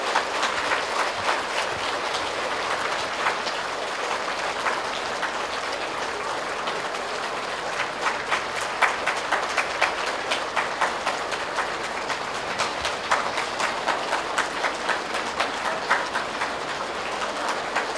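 Long, loud applause from a Buddhist congregation welcoming a Dharma lecturer, a dense sustained wash of clapping that holds steady for the whole stretch without talk.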